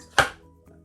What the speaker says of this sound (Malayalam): ഇനി നമുക്ക് ചിക്കനും മല്ലിയിലയും പച്ചമുളകും എല്ലാം കൂടെ ഒന്ന് നന്നായിട്ട് അരച്ചെടുക്കണം